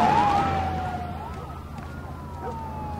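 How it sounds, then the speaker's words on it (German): A wailing siren in the video game The Last of Us Part 1 sweeps up and down in pitch, fairly loud and close, with a low rumbling background underneath. "Sirenen."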